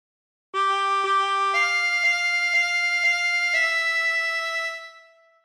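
A harmonica plays a short phrase of Yellow Rose of Texas, a run of sustained reedy notes with several changes of pitch, full and close, fading out at the end with no voices.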